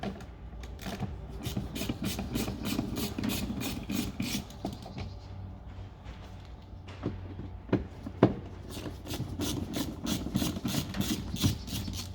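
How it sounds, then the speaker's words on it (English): A tool undoes T20 Torx bolts inside the boot of a Renault Clio 3, heard as close, rapid scratchy rasping and clicking strokes in repeated bursts, with a brief quieter pause midway and a few sharper knocks. "Pop open the boot and you'll see 3 T20 Torx bolts there just down the inside. Undo those 3."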